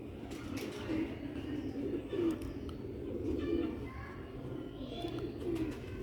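Pigeons of the Sialkoti breed coo softly in repeated low murmurs against a noisy background, with occasional faint voices and clatter nearby.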